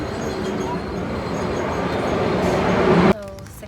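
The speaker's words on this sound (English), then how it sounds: "There's the train." A train pulls into a station in Portugal, its broad rumbling and rolling wheel noise building steadily for about three seconds before cutting off abruptly, with a faint high squeal near the end.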